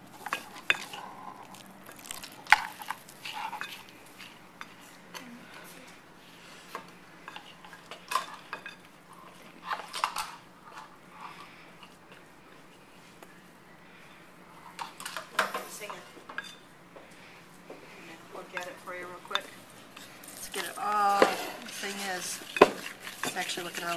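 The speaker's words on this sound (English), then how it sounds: "you stir it till it's thoroughly combined" A spoon clinks and scrapes while stirring corn tortilla dough in a bowl. Irregular, fairly close taps and scrapes continue throughout, with a busier clatter near the end and occasional voices.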